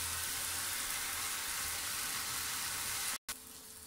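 Turmeric roasting in hot oil over dal gives a steady, close sizzle and crackle that runs without a break, then drops out briefly near the end and comes back.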